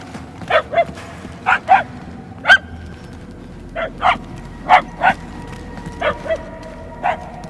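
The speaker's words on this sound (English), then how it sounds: "Whoever's barking must be close." A dog barks repeatedly in the Guardians of the Galaxy video game, about a dozen sharp, mid-distance barks in uneven pairs and singles over a low, steady ambient hum, with no talking.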